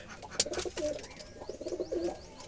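Wild pigeons coo in soft, repeated low phrases close by, with a brief higher chirp near the start.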